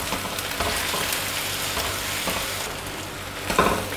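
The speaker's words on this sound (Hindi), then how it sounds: "1-1 चम्मच लहसुन और अदरक का पेस्ट हम इसमें ऐड करेंगे और इसको थोड़ी देर के लिए फ्राई करेंगे" Garlic and ginger paste fries in a pan for a curry, giving a dense, steady sizzle and crackle with a few brief stirring scrapes, close and continuous with no voices.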